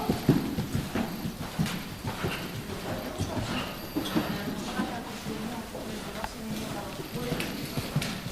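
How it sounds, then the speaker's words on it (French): A horse canters in a riding arena, its hoofbeats a soft rhythmic thudding throughout, heard close under an instructor's voice. "Et tu peux partir au galop."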